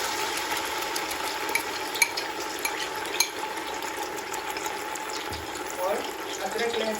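Onion paste and ginger-garlic paste fry in a pot for Delhi-style paya curry, a steady moderate sizzle with light stirring scrapes and a few clinks, while a voice is partly heard.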